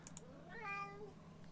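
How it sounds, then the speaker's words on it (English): A single cat meow, a clear rising and falling call close by, with a faint steady hum and light clicks in a quiet indoor room. "cat."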